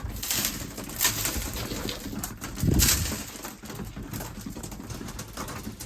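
Racing pigeons coo softly in a loft, with low throaty calls repeating over a constant rustling hum and a brief flutter of wings partway through.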